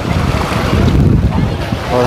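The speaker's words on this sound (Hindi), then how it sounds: "और हर किस्म की बोट्स वगैरह भी यहाँ पर चल रही हैं।" Boats at sea near the Phi Phi islands, heard as a constant rushing blend of wind buffeting the microphone and surf wash, loud and steady with no distinct engine or voices.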